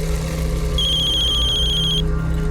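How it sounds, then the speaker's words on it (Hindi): Telephone ringing for an incoming call, a single electronic trill starting about a second in and lasting over a second, clear above a steady low hum. "लो आ गया फोन।"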